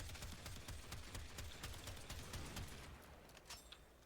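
The Astilla shotgun firing in Warframe, with rapid dense bursts of gunfire blending into a continuous loud barrage that eases slightly toward the end.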